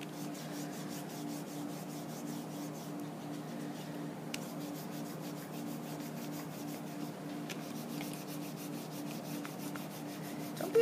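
Oil pastel is rubbed hard across paper to blend colour in a self-portrait, giving a close, steady scratchy rasp in quick repeated back-and-forth strokes.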